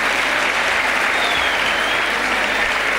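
Sustained, dense applause from a lecture audience welcoming guests to a talk on astronomy by Dr. Jayant Narlikar, steady and loud throughout without a break.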